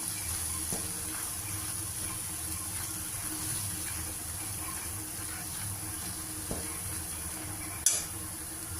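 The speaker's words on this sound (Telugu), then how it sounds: "రెండు చెంచాలు మనం కారం వేసుకోవాలి దీంట్లో కారం వేసుకుని కొద్దిగా బాగా మిక్స్ చేసేసుకుని" A spoon stirs chili powder into a simmering alachanda curry in a pan. Steady sizzling runs throughout, with faint scrapes and a sharp clink near the end, and no one speaks.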